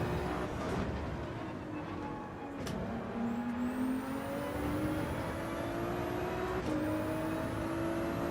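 A Ferrari race car in Gran Turismo 7 drones steadily at speed, its engine pitch climbing through gear changes with a whine over the hum of the track, with no talking.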